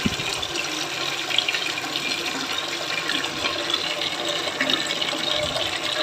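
Water runs steadily into a pot in a village kitchen, a continuous close splashing and gushing that holds an even level for several seconds.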